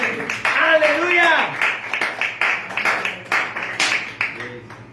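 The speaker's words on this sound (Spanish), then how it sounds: "darle fuerte aplauso al Señor en esta mañana" A church congregation claps in a steady, quick rhythm that builds under a loud voice speaking over it. The clapping grows clearer and more regular toward the end.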